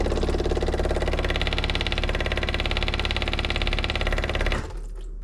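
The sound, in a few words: 1978 Reliant Scimitar engine starting and idling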